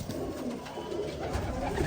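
Soft, throaty cooing from pigeons nearby, a continuous low murmur with occasional swells, no voices present.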